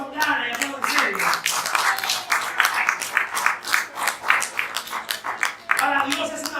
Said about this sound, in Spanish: Si va a aplaudir, aplauda con ganas y aplauda en serio.